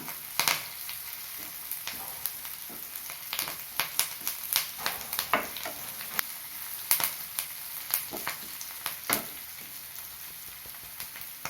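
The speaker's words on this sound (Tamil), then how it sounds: "இப்போ கொஞ்சம் கருவேப்பிலை சேர்த்துக்கிறேன் கருவேப்பிலை சேர்த்து வதக்குவோம்" Curry leaves sautéing in a pan of masala for jackfruit seed masala, a steady close sizzle with frequent crackling pops and stirring scrapes throughout, no speech.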